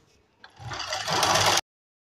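A sewing machine runs a quick burst of long stitches along a kurti neck patti, a close, steady mechanical whir lasting about a second before stopping abruptly.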